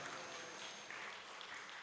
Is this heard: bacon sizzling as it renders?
no